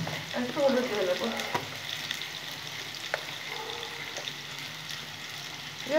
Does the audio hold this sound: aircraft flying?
no